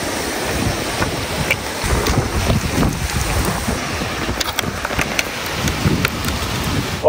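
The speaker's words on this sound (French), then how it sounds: "Il y a du vent" Strong wind buffets a mountain hiking trail on a slippery sandy, stony slope, with steady broadband gusting and rumbling microphone wind noise throughout and no speech.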